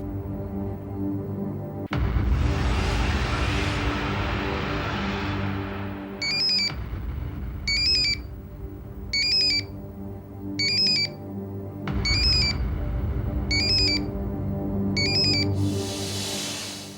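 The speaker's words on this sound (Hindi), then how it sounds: "मैं डॉक्टर रजनीश को फोन लगा रहा हूं और घंटी आपके मोबाइल पर बज रही।" A mobile phone rings with an electronic ringtone. Its short chiming phrases repeat in a steady pattern, fairly close, with no talking.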